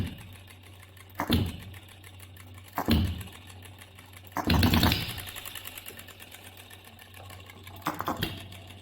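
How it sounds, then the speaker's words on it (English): A small OKMO B02 engine runs with a steady low hum and a rapid mechanical clatter, knocking in repeated bursts that swell and fade, recorded close with no talking. "We can see the engine is producing a knocking effect"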